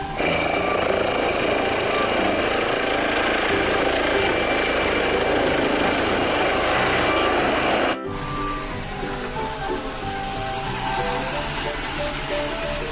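A helicopter flies close and loud, its rotor producing a steady, dense churning drone that continues throughout, then abruptly drops to a lower, slightly quieter rumble partway through.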